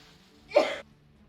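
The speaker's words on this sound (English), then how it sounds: "Bless you to whoever just sneezed" A single short, sharp sneeze bursts out once, fairly close, against a quiet background.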